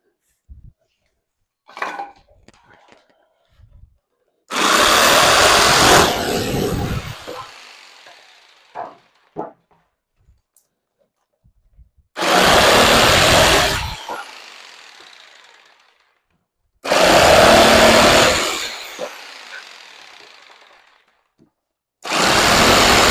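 Bursts of a $49 Harbor Freight jigsaw cutting wood for model railroad benchwork, four loud, close cuts of several seconds each separated by quiet gaps with small knocks and handling noises.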